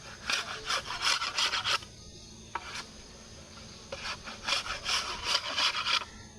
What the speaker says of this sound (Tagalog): tatanggalin naman yung talas ng kawayan sa gilid